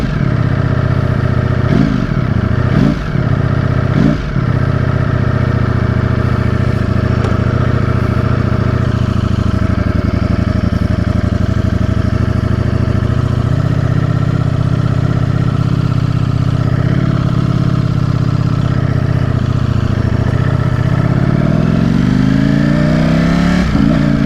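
A nearly new Ducati Streetfighter V4S motorcycle with a low battery, turning over in a few short cranking bursts before catching, then idling loudly and steadily up close and climbing into a rising rev near the end.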